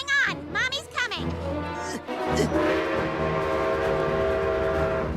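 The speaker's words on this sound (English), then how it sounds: "Oh no! Upside down train!" A train from a Family Guy cartoon scene rumbles in loud and sustained, joining excited cartoon voices and music, its steady mechanical roar filling the second half.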